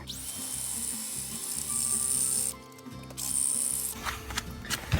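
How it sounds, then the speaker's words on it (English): A smaller drill bit grinds into the metal center of an office chair wheel fitting with a high whining tone, stopping briefly and then resuming, followed by scraping and clinking. "So I'm going to take a smaller drill bit, take a little bit more metal away."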